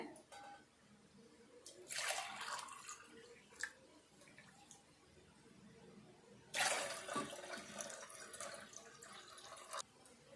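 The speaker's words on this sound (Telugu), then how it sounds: "4 గ్లాసులు వాటర్ పోసుకోవాలి." Water pours in two bursts, splashing into a container, with quiet gaps and faint clinks between.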